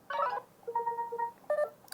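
A Nothing Phone 2 ringtone chimes close by in short electronic bursts of bright, tonal beeps, with small gaps between them and no voices.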